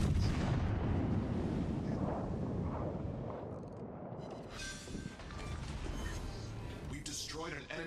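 Heavy warship guns boom in the naval battle game World of Warships: Legends, a run of deep rumbling blasts and rolling echoes, with someone talking over the firing.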